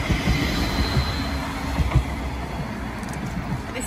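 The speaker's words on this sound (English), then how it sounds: "That's the tram." A Blackpool tram passes along the seafront during the Illuminations, a steady rail rumble with squealing wheels and a few clunks, fairly close and continuous, with street traffic around it.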